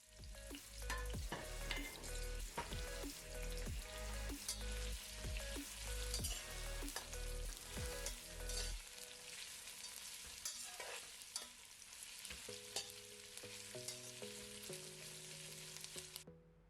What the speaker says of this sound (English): This is 3 onion finely sliced. We don't want the onions to be brown, just saute this up till the onions go translucent.